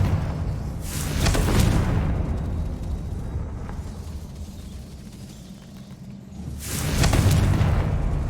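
A Confringo fire spell from Hogwarts Legacy erupts in two loud, booming blasts several seconds apart over a constant low rumble, each burst flaring briefly before it fades. No voices are heard.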